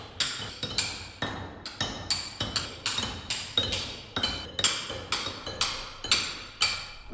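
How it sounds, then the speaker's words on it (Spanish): Stone is carved with hand tools as a block gets smoothed on each face, producing sharp, regular clinking strikes in a steady rhythm, close and clear with no talk. "su primera tarea es alisar las 6 superficies con herramientas manuales"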